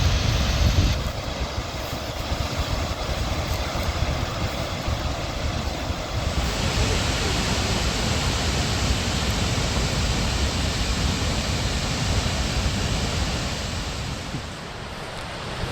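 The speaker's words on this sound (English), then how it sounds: "The waterfall." Skogafoss waterfall in Iceland roars as a loud, steady broadband rush of falling water, constant and close throughout with no voices.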